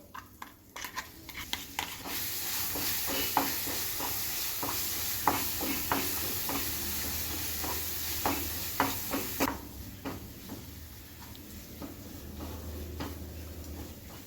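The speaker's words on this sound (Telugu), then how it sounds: "పోపులా చింత చిగురు పచ్చడి వేసుకొని కలుపుకోవాలి" Tamarind leaf chutney is stirred into a sizzling tempering with turmeric, a hissing fry underlying repeated close scraping and tapping strokes of a spoon against the pan, the sizzle briefly louder in the middle before settling.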